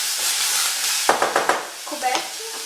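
Diced apples cook in a pan over low heat with no water added, giving a soft sizzle and hiss, then a few quick scrapes of stirring midway, with faint clinks near the end.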